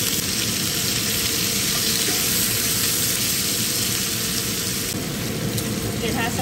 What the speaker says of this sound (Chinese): 然后我们就把这个牛肉粒啊都放进去煎